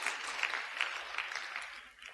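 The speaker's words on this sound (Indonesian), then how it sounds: "Tepuk tangan bagi Allah kita." A church congregation claps together during a sermon, a bright, fairly soft patter of many hands with a few sharper individual claps standing out, sustained for a couple of seconds and then tapering off slightly.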